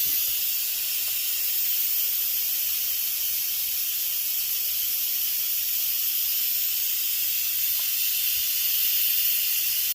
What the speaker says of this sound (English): it took about another 2 minutes to release all the steam